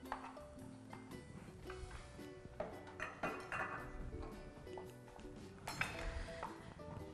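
Sugar and coconut flour being stirred in a deep pot, with a spoon clinking and scraping against the metal in an uneven rhythm, over a busy kitchen background with faint voices.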